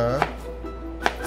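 A knife chopping a potato into batonnet strips, two sharp separate thuds on a cutting board about a second apart, close, with a voice talking beneath.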